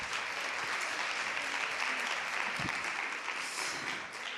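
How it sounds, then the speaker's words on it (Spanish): Applause at an international poetry festival for poet Marilia Monzón: steady, dense clapping from an audience, sustained and fairly loud throughout with no voices over it. "Me gustaría que le dieseis un fuerte aplauso a Marilia Monzón"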